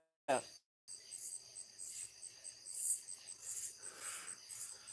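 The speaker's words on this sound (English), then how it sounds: "Crickets are super loud tonight." Crickets chirp at night in the woods, a dense, steady high trill that runs on without break, faint in level with a short thump near the start.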